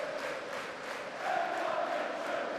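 A football crowd at a Preston North End versus Sunderland match chants and shouts for a player, a steady, distant, continuous roar that swells slightly midway.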